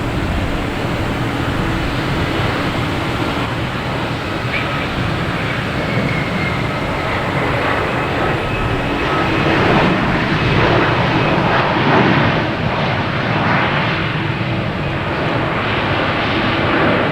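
A Copa Airlines Boeing 737-800 airliner coming in to land on runway 4 left at Boston Logan Airport produces a continuous loud broadband engine roar that swells slightly toward the end, with no talk over it.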